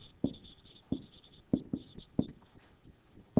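Marker or chalk writing on a classroom board while a polynomial is written out, a run of short scratchy strokes in quick bursts, close and fairly quiet, with no talking.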